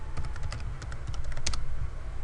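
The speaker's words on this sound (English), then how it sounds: "Typing too fast." Rapid typing on a computer keyboard while logging into a web browser, a quick run of close, crisp key clicks over a steady low background hum.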